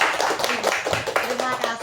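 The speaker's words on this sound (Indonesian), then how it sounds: "Oke, tepuk tangan." Brief round of hand clapping from a group at a school teachers' meeting on positive discipline, uneven claps mixed with overlapping voices talking.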